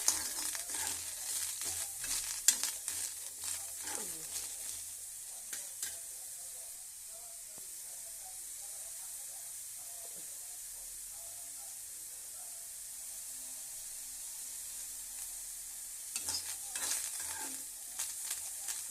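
Cluster beans fry in a pan with a constant soft sizzle while a spoon scrapes and stirs in clustered bursts at the beginning and end, quieter steady frying between, with no speech.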